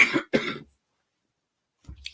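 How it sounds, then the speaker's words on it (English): A person gives two quick, harsh coughs close to the microphone, followed by silence and then a faint throat sound. "I had to cough."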